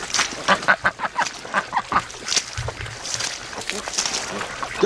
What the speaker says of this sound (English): the ducks are at the water